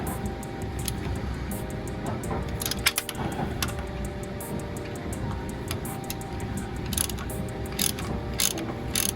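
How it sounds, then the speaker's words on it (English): Ratchet wrench clicking steadily as a bolt is backed out on a Volvo S60R, close and continuous over shop background noise. "get the bolt, and then you should be able to just get the bolt right out"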